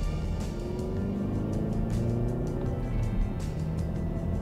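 A Ford Focus SW Active with a 6-speed gearbox accelerates along a motorway, its engine a steady, rising hum beneath continuous road and wind noise heard from inside the cabin.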